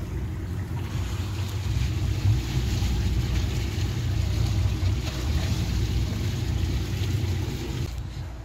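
A 2002 Bayliner 4087 motor boat cruises slowly through a marina, its engine a steady low rumble and drone that holds evenly for several seconds with wind and water wash on top.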